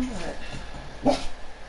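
A dog barks at its own reflection in a mirror indoors, giving a couple of short yips and a louder bark near the middle, while people talk over it.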